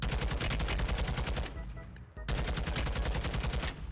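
Rapid automatic gunfire in the video game Warzone, loud dense bursts of shots with a brief pause before the firing resumes.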